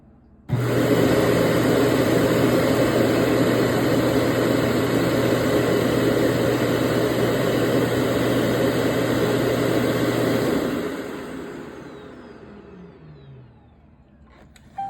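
A loud, steady mechanical hum and buzzing vibration from a cleaning robot at its station runs for about ten seconds, then winds down and fades, ending with a faint click.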